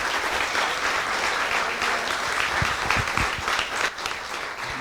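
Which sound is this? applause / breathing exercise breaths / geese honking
applause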